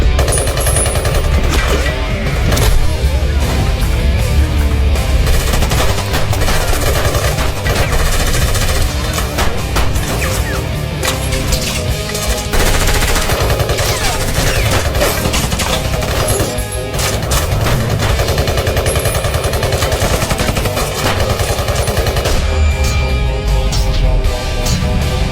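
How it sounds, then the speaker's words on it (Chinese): Loud, sustained machine gun fire fills a film shootout as a police tactical team storms a hostage taker's position, with dense rapid bursts hammering almost without pause. "枪战一触即发。"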